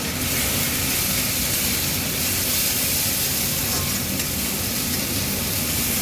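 Chana dal paste sizzles steadily in a hot pan while being gently stirred, a dense, even frying hiss holding at a constant level for the whole stretch with no voices.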